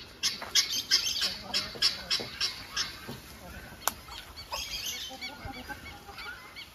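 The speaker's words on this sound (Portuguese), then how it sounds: "Esse aqui tá virando galo agora." Young roosters and chickens on a rural farm squawk and cluck in repeated short bursts, fairly close and moderately loud, with one sharper cry in the middle and faint background noise throughout.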